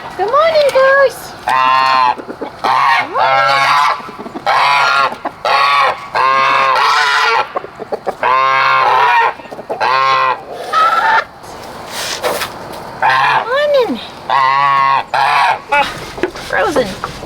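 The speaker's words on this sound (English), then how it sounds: "Get our loud geese and chickens out." Loud geese honk repeatedly in harsh overlapping calls on a cold farm morning, with chickens alongside, close by and in irregular bursts separated by short pauses, while a person speaks briefly.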